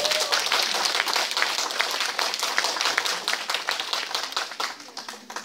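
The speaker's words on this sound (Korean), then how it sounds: "박수 가십니다." An audience at a Korean art-song sing-along gathering in Masan gives a round of hand clapping. Individual claps are distinct and rhythmic, then thin out and fade toward the end.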